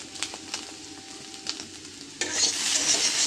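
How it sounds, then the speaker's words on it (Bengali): A spatula scrapes and taps rhythmically through frying potatoes and eggs, then the sizzle swells louder and steadier, close by. "এইভাবে নেড়ে চেড়ে আমার আলু আর ডিম ভাজা"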